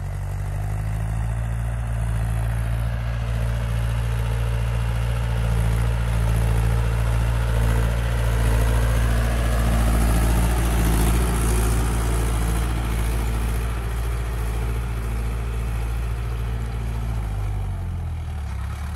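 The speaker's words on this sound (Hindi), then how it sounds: "जब कल्टीवेटर ऊपर उठाने के बाद में जो ट्रैक्टर मोड़ा जाता है तो RPM थोड़े से ड्रॉप करता है ट्रैक्टर" A Mahindra 575 45 hp tractor runs with a 13-tine cultivator, its diesel engine a loud, steady low rumble close by for the whole stretch, easing slightly in pitch and level near the end.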